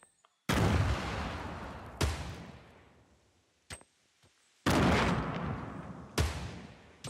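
Grenade explosions in the Fortnite battle royale game, four loud booming blasts each followed by a long fading rumble, with a couple of sharp smaller cracks between them, no voices.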